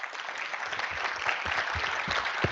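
Applause in a meeting hall honoring a departed colleague at a 2023 conference session: dense, steady clapping from a large audience throughout, moderately loud and continuous with no talk.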